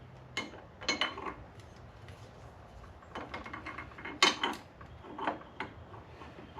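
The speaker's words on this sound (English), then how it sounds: "I'll just put 2 screws in for now, just so I can tighten it down" Screws being fitted and snugged down on the top clamp of 12-inch Hoopteeze handlebars on a 2021 Harley CVO Road Glide: a scattering of faint, close metallic clicks and ticks in short bursts against a quiet background.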